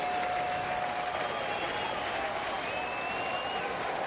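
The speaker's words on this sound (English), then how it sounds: "Small crowd, but for those that are here, they're into it." A small crowd at a baseball game cheers and applauds steadily throughout, a continuous wash of clapping and crowd noise with faint whistles in the mix.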